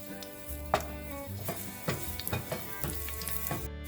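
Chopped garlic clove sizzling in hot olive oil in a pan, a steady crackling fry with several sharper pops and clinks of utensils over a low hum, close and fairly quiet.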